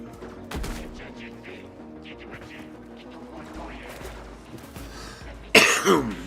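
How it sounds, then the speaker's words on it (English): A smoker's cough bursts out once, loud and close, near the end, after a stretch of quieter game gunfire and clatter during a Warframe session. "Yeah, I do have a cough."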